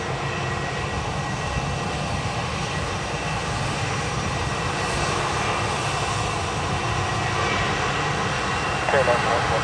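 A KLM airliner at Dublin Airport, its engines a steady distant roar that holds throughout, with people talking over it.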